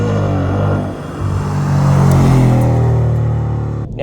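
A muscle-car-like sports car engine rumbles and revs after a downshift, a deep sustained throaty drone that rises and holds loud before cutting off abruptly near the end.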